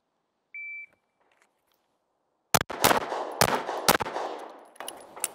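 Pistol shots in a timed defensive shooting drill, drawn from concealment with a slide-lock reload: a short electronic start beep, a pause, then a rapid string of loud, close sharp reports with brief gaps between them.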